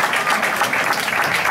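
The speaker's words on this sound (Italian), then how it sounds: "Un applauso a Francesco Cirella per le musiche e al tecnico luci e audio Alfonso La Calamita." Theatre audience applauding at the end of a comedy performance, a dense, continuous wash of many hands clapping, loud and even throughout, with no one speaking.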